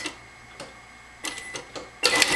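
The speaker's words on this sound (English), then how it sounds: "I'm going to go ahead and drop my needle, back tack, keep going, get to the end" Sewing machine stitching a back tack in short, quiet mechanical bursts of rapid clatter, separated by pauses, with the last burst the loudest.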